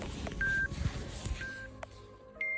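Two sports watches, an Apple Watch 8 and a Garmin Instinct, beep as outdoor walk workouts start: several short clear electronic tones spaced across a couple of seconds, close by, over faint outdoor background noise.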